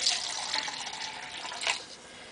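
Water poured into a grout and perlite mix for an ant formicarium, a steady close splashing pour that lasts the whole moment with no talk over it.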